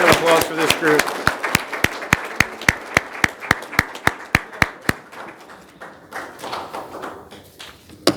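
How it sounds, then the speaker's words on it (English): A group in a city council meeting applauds with rhythmic unison claps, a steady regular beat of sharp hand claps that fades into scattered clapping, with voices underneath. "Now if we get a nice round of applause for this group."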